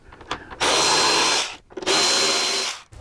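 A power tool loudly spins out the wind deflector bolts on a 2015-or-newer Harley Road Glide inner fairing, giving two sustained whirring runs of about a second each with a short pause between.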